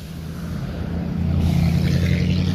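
A car accelerating on a city avenue, its engine drone building steadily louder over a couple of seconds with a shift in tone partway through, close and continuous with no talking.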